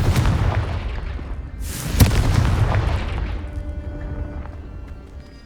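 Confringo explosive spell in Hogwarts Legacy: a loud boom bursts after a rumbling buildup, followed by crackling debris and a fading roar.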